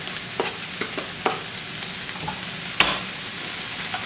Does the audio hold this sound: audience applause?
no